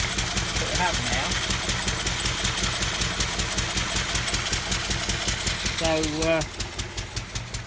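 A Lister D stationary engine drives a circular saw bench through a belt pulley, chugging with a steady rapid beat close by; someone speaks briefly over it.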